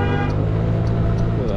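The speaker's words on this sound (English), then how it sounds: "Who the hell's honking?" A car horn blares in one continuous, loud, steady honk on a downtown Los Angeles street, with traffic rumbling underneath.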